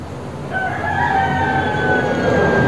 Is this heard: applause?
no